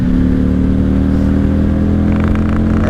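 Steady loud engine drone of a 1995 Honda Shadow VLX 600 V-twin cruiser heard on the move, with a rumbling low idle-to-cruise note and a brief rise in revs near the end.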